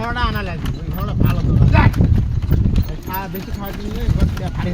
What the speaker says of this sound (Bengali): আমরা এখন উঠলাম ঘোড়ার গাড়িতে